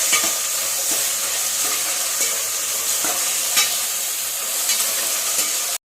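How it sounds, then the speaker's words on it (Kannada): Ingredients frying in hot oil until browned for a soya rice bath, a steady close sizzle with scattered scraping stirs throughout, no voices. "ಕಂದು ಬಣ್ಣ ಬರೋವರೆಗೂ ಫ್ರೈ ಮಾಡ್ಕೊಳ್ತಾ ಇದ್ದೀನಿ"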